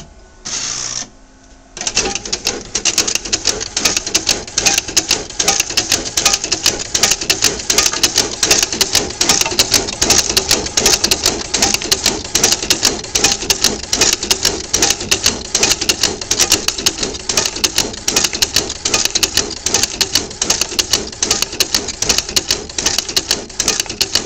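A Secap SA3300 envelope printer runs a batch of envelopes, giving a loud, dense, rapid mechanical clatter that continues steadily without pause after a short quieter start.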